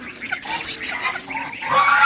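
Several Chinese geese honking and calling close by, overlapping nasal cries in short bursts.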